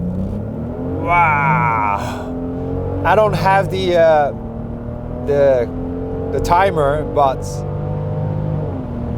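A 2022 Genesis GV70 SUV launching hard in sport mode with launch control, its engine note rising in a steady in-cabin drone while people inside talk and exclaim over it.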